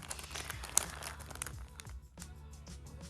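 Plastic packaging on a parcel from a lost-parcel shop crinkles and tears as it is opened, a close, quiet rustle with a few sharper crackles and no talking.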